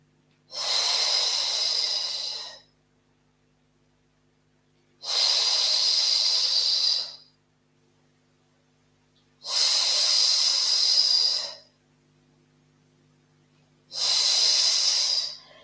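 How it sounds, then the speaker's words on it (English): Slow, rhythmic breathing during a Pilates exercise, with long, airy, hissing breaths. Four evenly spaced breaths of about two seconds each are heard up close, separated by near silence. "inhaling for 5, exhaling for 5"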